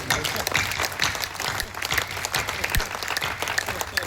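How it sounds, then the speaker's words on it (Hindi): An audience at a spring poetry gathering, an all-India kavi sammelan in Bhagalpur, breaks into hearty applause for a poet. The dense, even clapping fills the room steadily for a few seconds. "तो आज तक वो ऐसे दिव्य विनीत चौहान के लिए एक बार जोरदार तालियां।"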